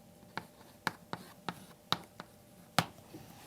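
Someone writing an equation during a chemistry lesson, heard as a series of distinct, sharp taps and short strokes of chalk or pen at irregular intervals, close and otherwise quiet.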